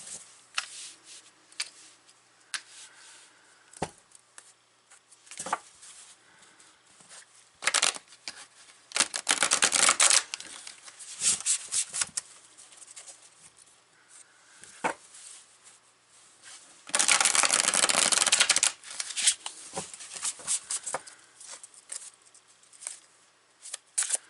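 A deck of tarot cards being shuffled close by, scattered light taps and flicks broken by two longer, louder riffling bursts, no voices.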